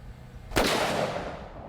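A single rifle shot fired as practice for a 4-bore cracks loudly at about half a second and rings off in a long, dense tail, with no talk over it.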